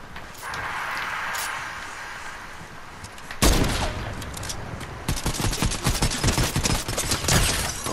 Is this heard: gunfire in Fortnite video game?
yes